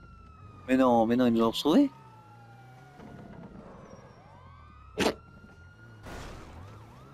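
Police sirens from the GTA video game wail in the background, with a long falling tone and rising and falling wails near the end, while someone talks over the start.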